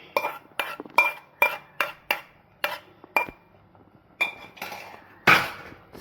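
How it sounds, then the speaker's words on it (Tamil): A utensil stirs coconut into varagu rice pongal in a pot, giving a rhythmic run of sharp metallic clinks and scrapes, about a dozen distinct knocks, close and clear with short pauses between. "சேர்த்துட்டு அதை நம்ம அப்படி கிண்டுறோம்."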